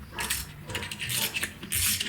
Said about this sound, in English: we'll take a ratchet and we start winding this up